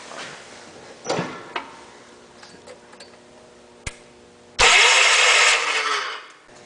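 A John Deere 112 lawn mower engine with old gas in the tank cranks in short bursts after scattered clicks and knocks, then a louder sustained burst of cranking follows.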